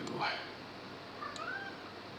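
A cat lets out a couple of meows, one short and one drawn out, close by, with a faint voice underneath.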